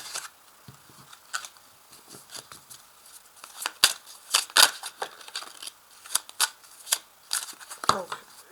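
Tarot cards being shuffled and cut in two, a quick run of crisp papery slaps and riffles close up, growing busier toward the end, with a voice faintly in the background.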